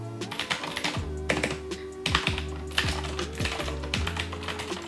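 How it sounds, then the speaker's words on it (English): Crisp, clicky keystrokes rattle out in quick irregular bursts from a Yunzii KC84 75% hot-swap mechanical keyboard fitted with Gateron blue switches, close up with no talking. "It's a very clicky keyboard."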